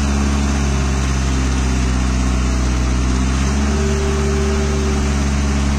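A VST Shakti MT 270 DI Virat 4WD mini tractor engine runs at a steady 2000 RPM in low second gear during a turmeric harvest, droning loudly and continuously with a rough mechanical hum.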